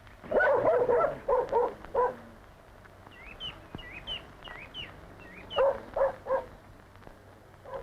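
A farm dog barks in short bursts at a New Zealand dairy farm as it brings the herd in from the back paddock, two clusters of loud yaps separated by a quieter stretch, with small birds chirping in the background.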